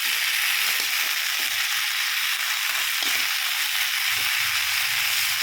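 Cauliflower curry frying in a pan, a dense continuous sizzle with occasional soft stirring scrapes, close and steady throughout.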